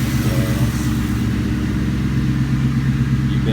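A New Edge Ford Mustang engine with a stock exhaust and 4-inch tips idles and revs close by in a steady, loud, low rumble that stays continuous throughout with no talking.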